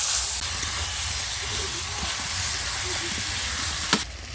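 Meat for a thin curry, cooked with spices, hisses and sizzles steadily in a pan as it is stirred, loud and close, with a brief clink near the end and no talk.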